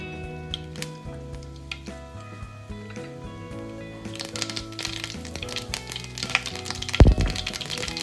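Mustard seeds crackle and pop in hot oil in a lunch recipe, with scattered sharp snaps growing denser toward the end, one louder crack near the close, over a steady background of music.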